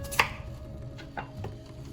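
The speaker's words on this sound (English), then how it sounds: "Now we're gonna cut our potatoes." A knife cuts potatoes into chunks with a few sharp, separate chops against a board, set over a faint kitchen hum.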